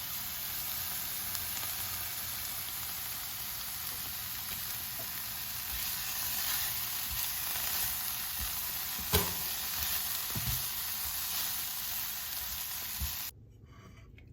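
Tofu stir fry with vegetables and black beans sizzles steadily in a hot pan, a constant frying hiss with occasional stirring clinks, close and fairly quiet, cutting off near the end.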